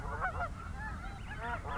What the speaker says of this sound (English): And snow geese.